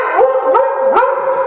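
Dogs give a quick run of yips and short barks, close and fairly loud, mixed with whimpery rising calls during excited play around a staircase.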